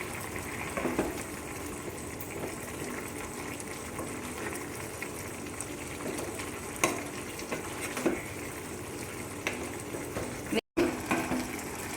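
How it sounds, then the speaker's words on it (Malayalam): Pepper chicken curry being stirred in a pot, with a low bubbling simmer and scattered scraping strokes of the spoon, moderately close, followed by a clunk near the end as the lid goes back. "ഇടയ്ക്കൊന്ന് തുറന്ന് നോക്കി ഇളക്കി കൊടുക്കാം"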